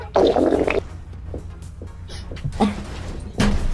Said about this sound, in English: There's no way no shitty doo-doo came out your butt after you let that fart